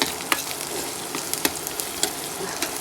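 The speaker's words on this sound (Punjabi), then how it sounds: "ਹੁਣ ਤੜਕਾ ਭੁੱਜਦਾਗਾ" A tadka for brinjal and potato curry sizzles loudly and continuously in hot oil, dotted with sharp crackles and spatters, close up and with no voices.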